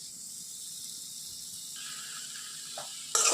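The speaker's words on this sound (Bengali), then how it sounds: "অল্প একটু মশলা টশলা দিয়ে এখন আলুটা কষিয়ে নিচ্ছি" Potatoes with spices sautéing in a pan, a steady soft hiss and sizzle throughout that brightens and grows louder near the end.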